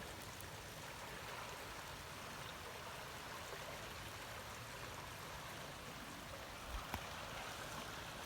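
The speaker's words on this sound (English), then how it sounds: "It's where the train goes over the fast-moving river." A fast-moving river rushes beneath a railway trestle in a redwood forest, a steady broadband roar of flowing water heard continuously at moderate distance.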